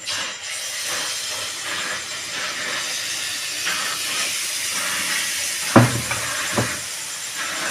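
Malpua batter made with toddy palm sizzles as it fries in hot oil, a constant loud hiss with a few sharper spits and crackles near the end.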